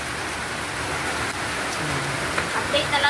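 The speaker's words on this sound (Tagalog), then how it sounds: "Sobrang lakas ng ulan ba?" Heavy rain pours down steadily outdoors, a dense, continuous hiss and patter that stays loud and even throughout, with a few sharper drops near the end.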